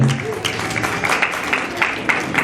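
Wedding reception guests clapping together, a dense, fairly loud round of applause with crowd murmur running throughout the few seconds.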